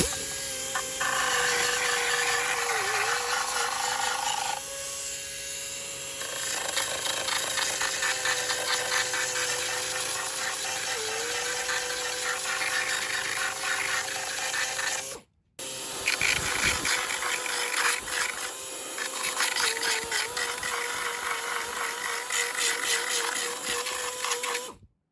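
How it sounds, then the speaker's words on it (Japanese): An air-powered belt sander grinds steadily across an FRP surface, a continuous abrasive whine with a brief stop around midway before sanding resumes, close and loud with no talk. "これをエアーで動くんですけども、このベルトンで表面をですね、綺麗に削っていきます"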